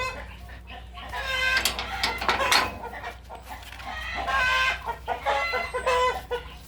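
Chickens cluck steadily and a rooster crows in a backyard coop, the calls loud and close, overlapping in busy bursts over a low steady hum.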